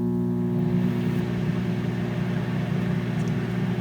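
A running microwave oven gives a steady, loud low hum with a constant electrical drone, unchanging throughout with no pauses.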